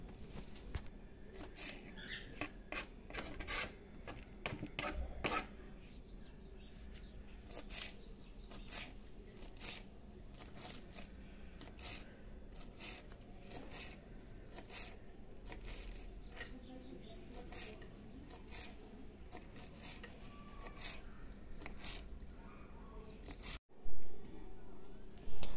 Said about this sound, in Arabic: غادي ندوز باش نقطع القزبر والمعدنوس حتى هو بنفس الطريقه